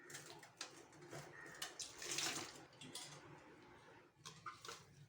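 Running water splashes and patters steadily, with a brief louder gush midway, as meal maker soya chunks are rinsed in a strainer under a tap.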